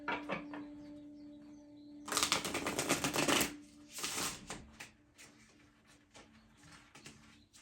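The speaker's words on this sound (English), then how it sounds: "let us get the cards a good shuffle here" Tarot cards are shuffled briskly in a couple of quick riffling bursts, close up, with quiet pauses and a faint hum between.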